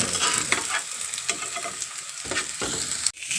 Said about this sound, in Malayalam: എണ്ണ വീത്തി കടുകിട്ട് അതിലേക്ക് നമ്മൾ സവാള കൂടി ഇട്ട് കൊടുത്തിട്ടുണ്ട് കേട്ടോ. ഇനി ഇത് നന്നായിട്ടൊന്ന് വഴറ്റിയെടുക്കണം